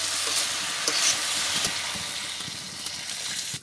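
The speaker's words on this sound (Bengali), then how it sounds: "সিমগুলো ভালো করে আমার কষায় নেওয়া হচ্ছে" Flat beans are stir-fried in a pan, giving a steady close sizzle broken by occasional scrapes and clicks of stirring, with no talk.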